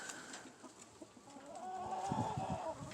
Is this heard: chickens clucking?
yes